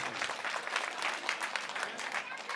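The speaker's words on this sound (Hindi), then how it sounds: "इसके लिए जोरदार तालियां" A crowd at an Aam Aadmi Party public rally in Burari, Delhi, bursts into sustained, energetic applause, dense clapping from many hands that stays even and loud throughout.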